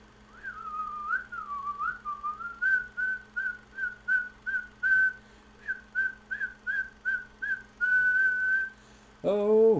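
A person whistles a melody in short, bouncy repeated phrases, clear and close, ending on a held note before a brief burst of another sound.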